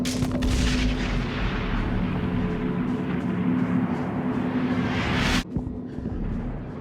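A huge shockwave boom from the Pulse sequence of the video game INSIDE: one dense, loud, sustained roar with a steady low hum beneath it, cutting off abruptly near the end before a quieter rumble returns.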